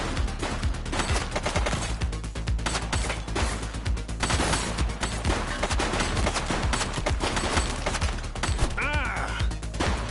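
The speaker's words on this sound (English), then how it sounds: "She's shooting!" Dense in-game gunfire from the police video game The Precinct: rapid overlapping shots and bursts, loud and close, running unbroken for ten seconds with a brief voice and chaotic effects mixed in.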